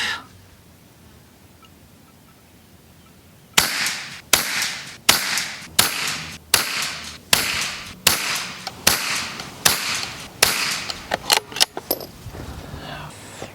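Rifle shots from a Savage MK II .22 Long Rifle firing Eley 10X match ammunition, roughly a dozen sharp cracks at a steady pace of about one every second after a quiet stretch, with a few quicker, fainter clicks near the end.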